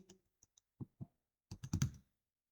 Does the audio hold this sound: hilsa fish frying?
no